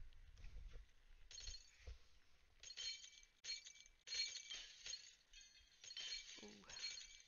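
Glass shattering in a Happy Wheels level, a few bright crashes and tinkling breaks scattered across the stretch, quiet overall with brief bursts standing out.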